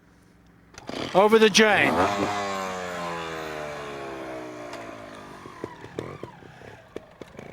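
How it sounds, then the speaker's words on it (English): A trials motorcycle engine fires up at a youth trials competition, catching with a sharp burst of revs before settling into a steady idle, with a voice speaking over the start and some clattering and knocks afterward. "Start your engine."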